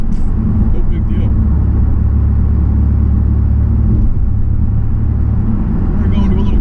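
A 2002 Pontiac Firebird V6 with a manual gearbox cruises down the road with a loud, steady low engine and road rumble, and a voice talks over it.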